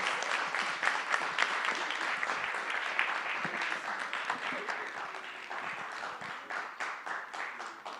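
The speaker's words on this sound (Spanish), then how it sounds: "Un aplauso a sus compañeros." An auditorium audience applauds classmates after a question session, with dense, steady clapping from many hands that keeps going throughout and fades slightly toward the end.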